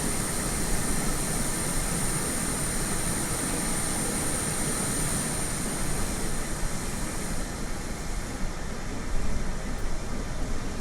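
Airliner jet engine spooling up in Microsoft Flight Simulator 2020 on Xbox, a steady broadband roar with a faint high whine, continuous and loud throughout with no talk.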